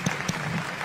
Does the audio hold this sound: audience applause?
yes